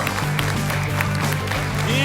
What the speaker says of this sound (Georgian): აპლოდისმენტები არ დავიშუროთ